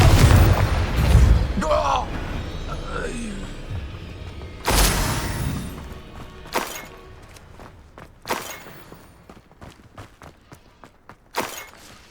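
A Confringo spell explodes in Hogwarts Legacy with a loud booming blast and debris crash, followed by further fainter impacts and spell bursts at scattered intervals.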